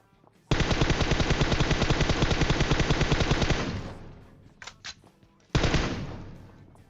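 Rapid automatic gunfire from a shooter video game, a loud sustained burst of about three seconds that tapers off, followed by a few brief pops and then another loud burst.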